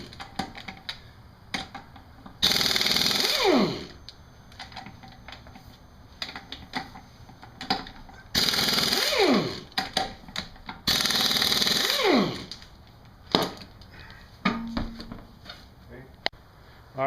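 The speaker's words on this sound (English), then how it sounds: "You don't have to use the impact wrench. It just makes things a whole lot faster." An impact wrench removing wheel and lower shock bolts on a Mustang rear: three loud hammering bursts about a second long, each ending in a falling whir as the motor spins down, with quieter handling clatter and tool knocks between, close by.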